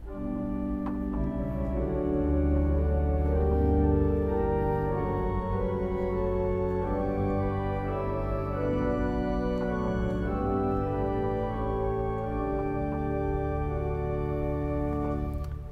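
An Austin pipe organ sounds a stopped diapason with a four-foot stop added, giving brighter sustained chords that move steadily through a continuous passage, with no voices over the music.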